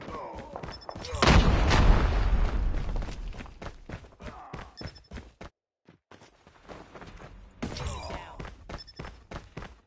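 A video game firefight on a kill-confirmed match: a loud grenade blast booms early, followed by a steady run of sharp gunshots and footsteps, dense and close, with brief in-game voices mixed in.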